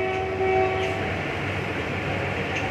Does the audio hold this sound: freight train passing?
yes